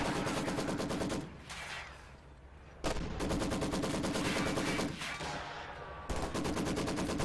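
Maxim machine gun and sniper fire in a Company of Heroes 2 battle: loud sustained rapid-fire bursts broken by a couple of short lulls, battlefield noise continuing underneath, no voices.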